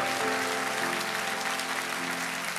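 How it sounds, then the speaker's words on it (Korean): A church congregation claps warmly during a Sunday worship service, a dense, steady applause that continues throughout with a faint sustained musical tone beneath it. "우리 오랜만에 좀 뜨거운 박수를 이분들 다"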